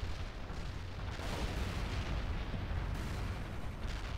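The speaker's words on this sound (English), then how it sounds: "I also want to use some artillery just on those guys" A dense artillery barrage in World in Conflict rumbles continuously, with overlapping booms and distant blasts forming a heavy, unbroken roar.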